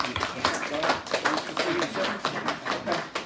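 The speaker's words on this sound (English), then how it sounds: "Let's give him a round of applause." Scattered hand claps from a small audience at a City Island community meeting, uneven and moderately close, with voices talking over the clapping.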